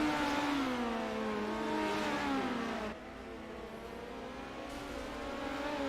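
Midget race cars run on a dirt track during a heat race, a loud continuous engine whine that climbs in pitch as the cars power off a corner, then steadies, heard from a distance.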